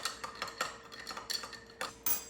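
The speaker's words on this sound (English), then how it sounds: "now we're going to take our ice. You want to stir that around, get it right to the right temperature" Ice stirred in a bourbon cocktail, giving a series of light, irregular clinks and taps of ice against glass and spoon, close and fairly quiet, with short gaps between strikes.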